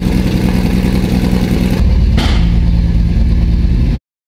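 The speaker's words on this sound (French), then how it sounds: "Le moteur a ensuite démarré et il s'est mis à sonner beaucoup mieux qu'avant." Loud Lamborghini Murciélago engine running close by during a rebuild, a throaty rumble that rises briefly in a rev before settling back, then stopping abruptly.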